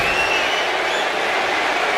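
Arena crowd in the wrestling video game WWE 2K26 roars steadily, a dense, loud cheering wash with no breaks.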